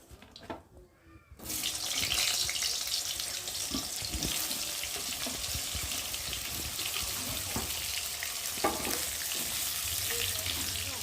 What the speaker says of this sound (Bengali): ওই তেলের মধ্যে এখন আমি বেগুনগুলো ভেজে নেবো আগে